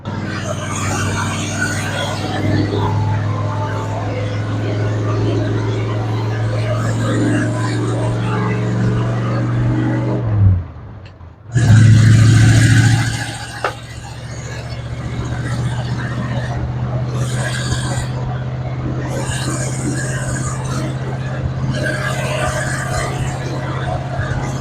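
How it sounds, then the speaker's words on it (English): Steady low engine drone of a 1984 Chevrolet C30 truck cruising in third gear at about 25 mph with windows down, wind buffeting and road rumble; a brief dip and surge midway, then the drive continues. "I'm in third. I think I'm doing about 25 in third."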